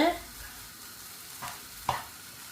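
Onions being mixed into puttu kothu in a pan: a couple of short scraping stirs over a faint, steady sizzle, with no voices.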